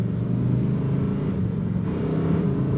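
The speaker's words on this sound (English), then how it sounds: "Look how quiet this engine is just puttering around in automatic." A 2024 Lamborghini Huracan Sterrato's engine putters quietly in Strada mode at low speed, a smooth steady low rumble with no revving, close and even throughout.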